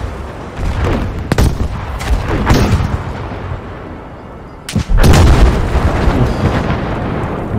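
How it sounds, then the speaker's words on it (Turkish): Battlefield 5 bomb and artillery explosions boom loudly in a few heavy, close blasts, with rumbling battle noise between them. "Bomba patladı."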